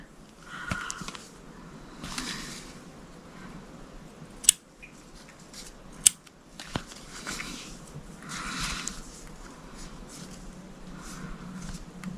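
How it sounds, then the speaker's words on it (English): Scissors trimming felt around a stitched cross-stitch piece: a series of close, soft snipping crunches in irregular bursts, with two sharp clicks of the blades, quiet room, no talking. "So I'm not cutting any plastic, I'm just cutting the felt."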